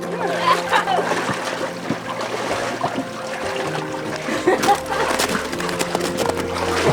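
Water splashes and trickles as someone wades through a shallow stream in an Alaska national park, a steady close wash of sloshing with occasional louder splashes, and people talk now and then over it.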